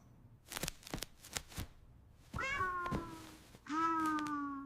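A pet cat meows several times in a quiet indoor room, with two long, clear, fairly loud meows near the end following some soft rustling and scuffling sounds.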